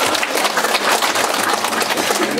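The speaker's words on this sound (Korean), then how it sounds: "박수 한번 주세요. 박수 한번." Audience applause at a cooperative's business briefing, a dense, continuous patter of many hands clapping at steady volume, close and without talk.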